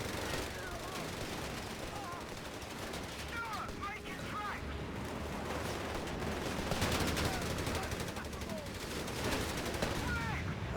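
Continuous gunfire in Company of Heroes 3 during a city battle, dense overlapping rifle and machine gun bursts crackling throughout, with voices shouting at times over the battle noise.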